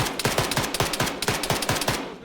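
Rapid bursts of automatic gunfire in a PvP military shooter video game, a rhythmic string of about a dozen sharp, loud shots in quick succession.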